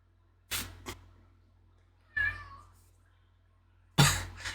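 A cat meows at the door to be let in, three short separate calls spaced a couple of seconds apart, the middle one a clearer drawn-out meow, close and moderately loud.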